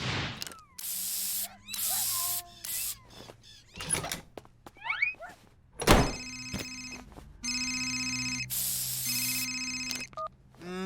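A cartoon telephone rings in repeated electronic bursts among other cartoon sound effects and clatter, fairly close and clear.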